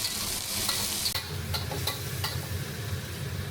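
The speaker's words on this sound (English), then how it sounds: "After stir-frying the peppers for 1 to 2 minutes, you can put the eggs from earlier in and stir-fry them together." Peppers stir-fried in a pan with a tiny splash of water, giving a steady close sizzle with a few sharp scraping stirs of the utensil, no voices.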